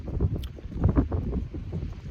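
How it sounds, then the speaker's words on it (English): Wind blows outdoors straight into the microphone, producing a constant low, rumbling buffet that rises and falls in gusts with no clear voices. "it's very windy, obviously"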